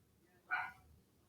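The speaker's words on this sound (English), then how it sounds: "What is going on outside that the dogs are barking like that?" A single dog bark rings out from outside, short and somewhat distant against a quiet low background.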